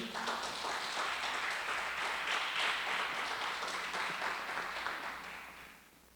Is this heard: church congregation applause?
yes